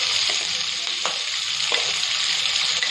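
Chopped onion and ginger fry steadily in hot oil in a pan for chutney, giving a continuous close sizzle with a few faint stirring knocks and no talking.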